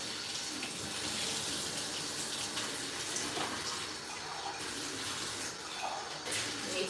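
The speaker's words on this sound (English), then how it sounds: "I just need to put water in my coffee pot." Tap water runs steadily into a coffee pot at a kitchen sink, a continuous bright hiss and splash that holds for the whole stretch with no talking.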